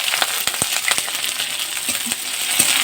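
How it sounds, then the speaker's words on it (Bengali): Onion frying in hot oil with cumin, dried chilli, cardamom and cloves gives off a bright, steady sizzle, with a few light scrapes and taps of stirring, close and fairly loud. "পেঁয়াজটা একটু হালকা ভাজা করে নেব।"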